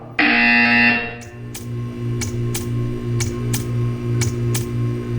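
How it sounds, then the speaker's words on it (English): An electronic buzzer sounds inside a Portal 2 video game test chamber as a series of short, sharp repeated pulses over a steady humming tone, preceded by a louder onset burst. "You will hear a buzzer."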